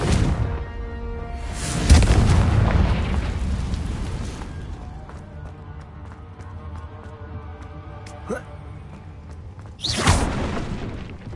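A Confringo fire spell from the video game Hogwarts Legacy bursts as a loud booming blast near the start, its rumble fading over several seconds before a second sharp whooshing burst hits near the end.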